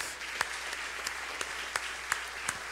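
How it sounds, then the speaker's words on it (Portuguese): A church congregation applauds during a sermon, a steady patter of many hands at moderate, slightly distant loudness, with a few sharper individual claps standing out. "Você pode aplaudir a Jesus porque Ele é a palavra?"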